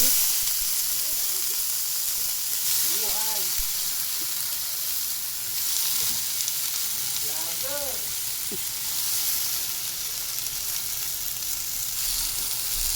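Vegetables tossed into a pan of sautéing garlic, onion and liver, a continuous loud sizzle and hiss with stirring scrapes, and short bursts of a voice briefly rising over it.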